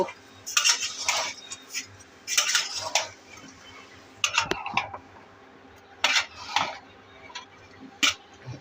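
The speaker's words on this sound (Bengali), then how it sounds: "এখন লাউ ছেড়ে দেব। এখন একটু লাড়া দেব।" A spoon stirs bottle gourd in a cooking pot in several short bursts of scraping and clanking metal, close and moderately loud, with pauses between the strokes.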